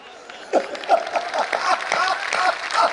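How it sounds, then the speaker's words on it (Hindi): Audience at a Hindi comedy poetry show clapping, the applause building from scattered claps into a steady round while a voice talks over it. "तालियां एक बार ऐसे मन के साथ दो"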